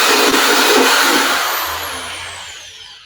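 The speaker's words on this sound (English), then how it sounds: "It's not a big deal to drill a hole in the drywall." A loud, steady high-pitched power drill whine boring into drywall grinds continuously, then gradually fades and winds down.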